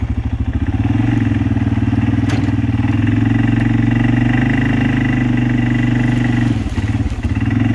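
A John Deere four-wheel-drive farm vehicle reverses out of mud, its engine revving loud and steady with a low, throaty drone for several seconds before easing off near the end.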